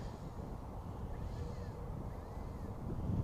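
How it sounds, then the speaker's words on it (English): Wind buffeting an outdoor microphone at a model airplane flying field, a continuous low rumbling roar that swells slightly toward the end, with no clear voices. "The wind comes and goes too"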